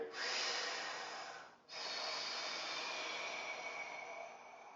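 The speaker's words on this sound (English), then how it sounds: "Take a breath in here." A person in a core fitness class draws a long, deep breath in, a steady airy rush that breaks off briefly and then continues as a sustained breath, close and clear with no talk.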